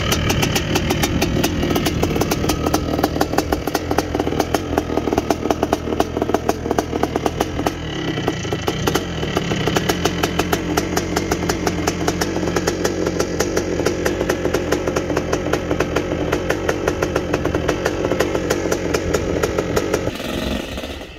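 A 1979 Yamaha YZ250 two-stroke motocross bike engine runs loud and close, a rapid buzzing rattle that holds fairly steady as it warms up, with small rises in revs, then cuts off sharply at the end.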